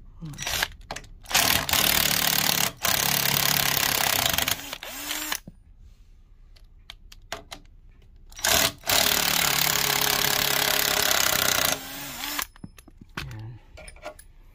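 A power drill drives screws into a wall in loud, sustained whirring bursts of several seconds each, separated by quieter pauses with small clicks and handling noises, close up.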